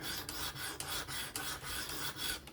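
A Kizer October folding knife with a 20CV steel blade being sharpened on a Work Sharp Professional Adjust, making a quick run of about eight crisp, close rasping strokes.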